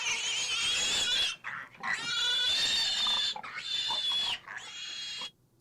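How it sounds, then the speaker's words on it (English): Pig oinks played from a soundboard: three loud, squealing oink bursts in quick succession, each about a second long with brief gaps, heard alone without talk. "So now when I play that pig, let's see what happened when I played it."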